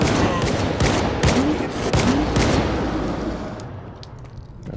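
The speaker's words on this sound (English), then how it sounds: "I've got some expansive rounds. Coming straight for you." Dense, sustained gunfire of expansive rounds in STALKER 2, a loud, continuous fusillade of overlapping shots and bursts filling the whole stretch with little pause.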